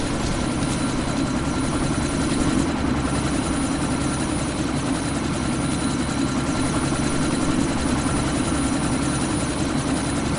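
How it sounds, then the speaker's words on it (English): A helicopter in Deus Ex: Mankind Divided is about to lift off, its rotors and engine sending out a loud, steady, close whir that holds unbroken throughout, with no voices. "That chopper's about to take off."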